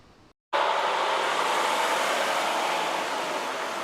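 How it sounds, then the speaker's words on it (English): More than 60 CL&P utility trucks fire up at once for a convoy heading out. After a brief hush, a loud, steady broadband engine roar starts abruptly and holds, dense and close. "more than 60 CL&P workers fired up their trucks heading to New York and New Jersey"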